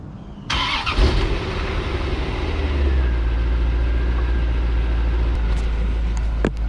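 A C4 Corvette engine cold start: it cranks briefly and catches, then settles into a steady, loud idle with a low rumble close by.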